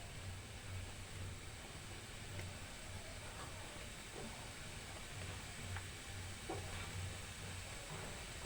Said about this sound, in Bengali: তাহলে এইভাবে আমি সবগুলো ভেজে নিচ্ছি।